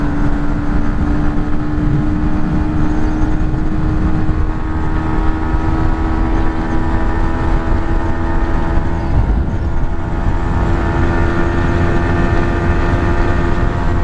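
A Yamaha XSR 125 motorcycle runs flat out near top speed in sixth gear at about 10,500 rpm. A steady, loud engine drone holds the same pitch throughout, under heavy constant wind rush with no voices.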